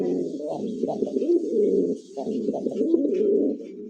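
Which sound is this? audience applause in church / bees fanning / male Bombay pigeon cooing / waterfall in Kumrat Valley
male Bombay pigeon cooing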